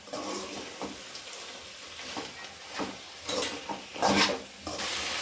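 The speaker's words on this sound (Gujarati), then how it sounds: "હવે તેને મિક્સ કરી લઈશું" A spoon scrapes and stirs bottle gourd halwa with almonds and raisins in a pan, giving uneven rubbing strokes with a faint sizzle and louder scraping bursts toward the end.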